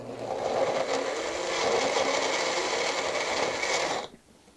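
Blender pureeing tomatoes for gazpacho, a steady loud whirring motor running continuously for about four seconds before cutting off abruptly.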